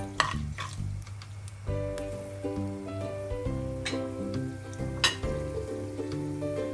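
Fenugreek seeds and asafoetida fry in hot oil for an apple pickle, giving a steady close sizzle with small crackles and pops throughout, and no one talking.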